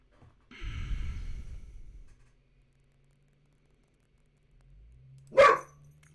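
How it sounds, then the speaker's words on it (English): A dog barking indoors behind online gameplay, a muffled burst of barking early on, then a short sharp bark near the end after a quiet stretch; no talk. "that was my dog. Barking at the world."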